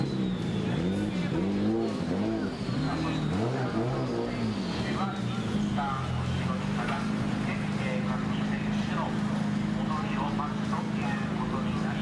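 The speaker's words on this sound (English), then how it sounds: "I can always tell when I hear a rotary in the background." A rotary-engine drift car revs and runs on the track at Ebisu Circuit West Course during a Formula Drift Japan round, a steady loud engine drone under continuous overlapping commentary voices.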